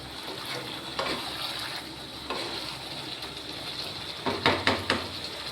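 Garlic tempered in hot oil, a low steady sizzle with a few sharp utensil knocks and scrapes against the pan, growing busier toward the end.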